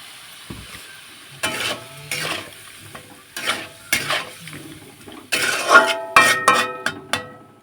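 Curry being stirred in a pan, with repeated close scraping and clattering strokes of a spoon against metal in an irregular rhythm over a low sizzle, growing busier toward the end, with no talk.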